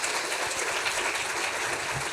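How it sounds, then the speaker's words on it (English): Steady applause from a crowd, a dense wash of clapping that holds evenly throughout without voices. "Please help us give a big round of applause for Betsy Fretwell."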